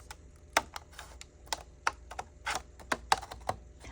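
Sharp clicking cuts of an X-Acto knife trimming around the laminated edges of a custom sports paddle, about a dozen irregular snaps and scrapes, close and fairly quiet, with no talking.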